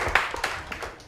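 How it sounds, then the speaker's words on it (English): A brief scatter of audience clapping at a workshop session, a few distinct claps over a low background, thin and short-lived. "You clap more to our prof."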